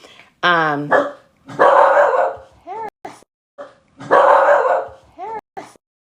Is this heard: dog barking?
yes